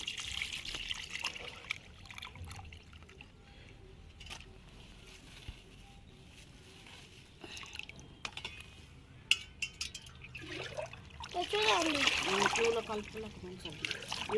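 Water trickles and splashes as liquid is poured through a strainer into a bucket, with clinks and handling noises; a voice talks intermittently.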